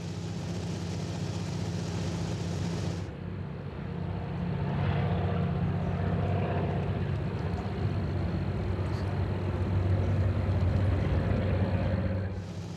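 Small airplane engine droning steadily throughout an autumn aerial survey flight over a large trapping territory, a loud continuous hum heard from inside the cabin, with no talk.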